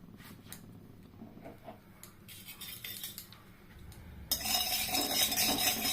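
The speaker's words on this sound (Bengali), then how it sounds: "কড়াইটা গরম হচ্ছে, আমি এর মধ্যে একটু নুন দিয়ে দিচ্ছি" Salt is scattered into a heating wok and spread with a utensil, giving light scraping and clinking that turns into a steady, louder sizzling hiss near the end.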